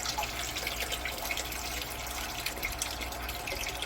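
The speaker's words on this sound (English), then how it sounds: "So now I've got the hose into somewhere where it will flow out without damaging anything." Water flows steadily out of a hose, a soft continuous hiss and trickle at low level, even and unbroken, with no voices.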